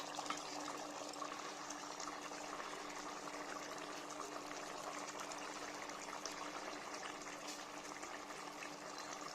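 A pot of country chicken curry for ragi mudda simmers and bubbles on the stove, a soft, steady, even hiss of boiling liquid with no voices, quiet and unchanging throughout.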